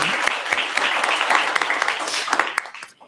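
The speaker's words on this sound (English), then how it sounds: "That also deserves a round of applause." A short burst of applause, many hands clapping together, tapering off at the end.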